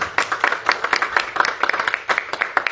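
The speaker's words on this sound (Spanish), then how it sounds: "denle fuerte ese aplauso" Church congregation clapping, brisk irregular handclaps close by, loud and rhythmic with a few people clapping together for a few seconds.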